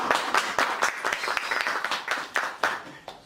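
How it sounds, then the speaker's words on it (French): A small television studio audience claps to greet two guests on a talk show, the sparse, uneven claps rising and falling over a few seconds with no one speaking. "je vous invite à applaudir nos deux invités"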